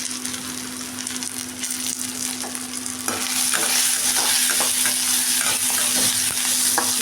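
Fenugreek seeds and chana dal fry in a pan with a dense crackling sizzle and scraping stirs, growing louder and busier halfway through.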